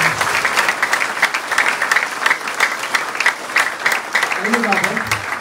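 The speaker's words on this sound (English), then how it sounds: "Please give yourselves a big, big round of applause" A seminar audience gives a big round of applause, dense steady clapping filling the room for several seconds, with a voice briefly heard near the end.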